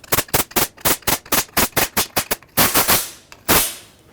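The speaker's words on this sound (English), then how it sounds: "I'm going to blow out all these holes so that the bolts can go in without any issues." Compressed air blows out the bolt holes of a 1998–2011 Ford Ranger rear differential housing, a rapid series of close, sharp hissing bursts followed by a few longer blasts.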